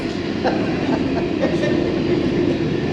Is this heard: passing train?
yes